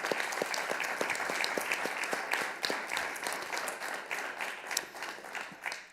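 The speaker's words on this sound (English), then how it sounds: "Let's give them all a round of applause for that." An audience at a school board meeting claps steadily for several seconds, a dense patter of many hands at moderate volume that gradually thins.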